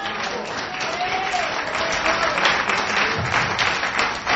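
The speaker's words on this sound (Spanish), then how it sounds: "den un aplauso al que vive y reina" A church congregation claps in sustained applause during a Spanish-language worship service, a dense steady roar of hands with voices mixed in beneath it.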